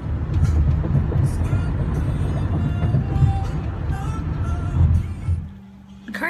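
A car driving home, giving a steady low road rumble and engine drone from inside the cabin that eases off near the end, with faint voices under it.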